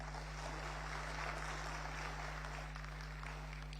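Faint, steady applause from an audience at an academic lecture on the ethical and legal framework of artificial reproduction, heard distantly over a constant electrical hum throughout.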